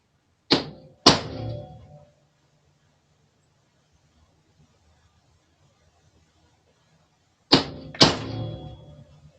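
Two pairs of sharp, loud metallic hammer strikes on an RC car part, each pair a quick double blow with a ringing decay, separated by several seconds of near silence.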